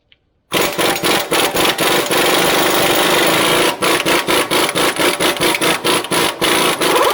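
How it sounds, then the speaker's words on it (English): Impact or power tool loosening the front axle nut on a Toyota FJ Cruiser, a loud continuous mechanical buzz broken into rapid repeated pulses after a moment of quiet. "Pop this axle nut off."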